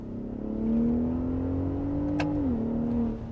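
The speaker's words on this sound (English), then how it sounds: "you hear that trombone exhaust wanting to just let it loose" A 2021 third-generation Ford Raptor pickup with a custom exhaust revs up and accelerates in second gear, a smooth rising engine drone heard from inside the cab that briefly dips and holds.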